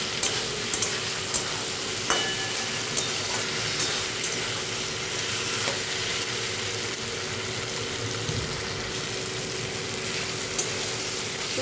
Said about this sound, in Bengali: গ্যাসটা বাড়িয়ে দিয়েছি দিয়ে এখন খুব ভালো করে এটা কষিয়ে নিচ্ছি